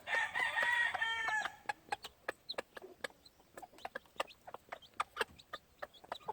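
On a gamefowl farm, a rooster crows loudly at the start, then hens with chicks cluck and peep in quick, scattered bursts, close by and with no talking.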